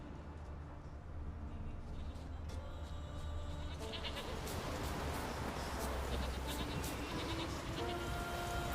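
Several goats bleat faintly in the distance in The Witcher 3 video game over a steady background hum, the calls growing a little more frequent later on.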